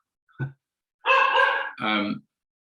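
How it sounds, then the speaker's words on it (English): Dog barking indoors during an online talk, a short yip followed by two drawn-out, howling barks, close and loud against silence. "I apologize for my dog."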